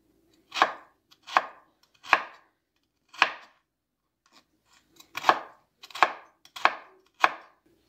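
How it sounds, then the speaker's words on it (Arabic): A knife chops fruit and strawberries thinly on a cutting board, in crisp, distinct strokes, three in quick succession, a pause, then a faster run of five, close and clear with no talking. "يعني كيما قلت لكم اي فاكهه عندكم غادي نقطعوها رقيقه. غادي ندوز كذلك نقطع حتى انا لي فريز"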